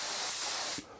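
An HVLP spray gun sprays wood finish in a steady, loud hiss that drops off sharply near the end of the one-second burst.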